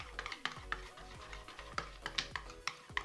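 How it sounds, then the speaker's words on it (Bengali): A whisk or spoon beats cake batter mixed with baking powder in a bowl, giving quick rhythmic clinks and taps against the sides, faint and close, with no talking. "উইসের সাহায্যে হোক বা চামচের সাহায্যে হোক ভালো করে এটাকে মিশিয়ে রেডি করে নিতে হবে"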